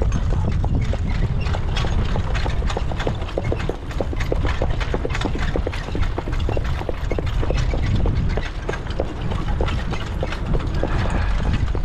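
Harness racing horse trotting in hobbles, a steady, rapid rhythm of hoofbeats and rattling gear, close and continuous throughout with no pauses.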